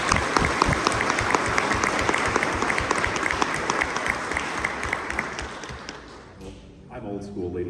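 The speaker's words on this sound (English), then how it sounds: "give us a round of applause for Sean," A conference audience applauds loudly and steadily for several seconds before the clapping thins and a voice starts speaking near the end.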